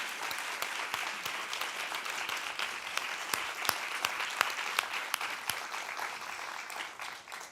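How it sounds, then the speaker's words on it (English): Audience applause at the launch of the Nordic Nutrition Recommendations 2023, a moderate crowd clapping steadily with distinct individual claps, fairly faint and fading at the end, no talk over it. "Let's give them a round of applause."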